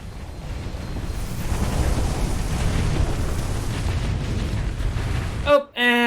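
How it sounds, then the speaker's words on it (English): A brick breaker ship explodes in the space game Starsector, a loud sustained rumbling roar of blasts that cuts off abruptly near the end into a brief tonal game sound. "God damn, that ship blows up spectacularly."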